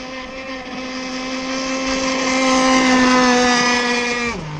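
ZippKits Vbox RC gas boat's small two-stroke engine screams steadily on the water, a loud, high, buzzing whine that rises slightly before the pitch suddenly drops near the end.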